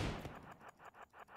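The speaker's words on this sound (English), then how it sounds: "Oh, we shot the raccoon." A gunshot in the RimWorld video game as a colonist fires at a raccoon: a sharp burst at the start, then a string of softer, evenly spaced pops.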